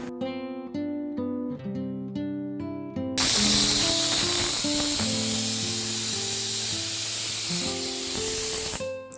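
A pressure cooker cooking green gram (cherupayar) for a Kerala-style curry lets out a loud, steady steam hiss that holds for several seconds and then cuts off, over a light tonal melody playing throughout.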